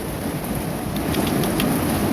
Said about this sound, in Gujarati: મુશળધાર વરસાદ પડે છે ધમધોકાર વરસાદ